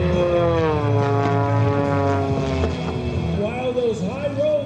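A propeller aerobatic airplane performs at the Westmoreland County airshow, its engine a steady, droning buzz that rises and falls in pitch as it maneuvers, with someone talking over it throughout.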